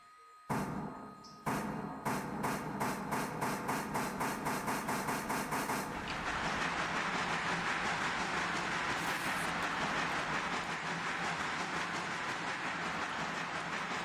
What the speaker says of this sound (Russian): Ждать придется. Пока проедет встречка.